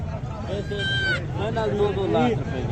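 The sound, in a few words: goats bleating at goat market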